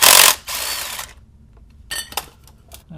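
A ratchet works loose the last bolt on a 2004 MINI Cooper S R53 engine, giving a loud close burst of clicking, a pause, then a few sharper metallic clicks and clinks.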